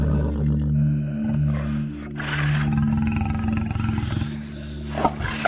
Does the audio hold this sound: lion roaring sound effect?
yes